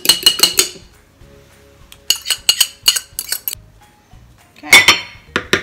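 A utensil beats a meatball mixture in a bowl, giving quick clinking strokes in bursts, with pauses between the runs of close, bright metallic taps.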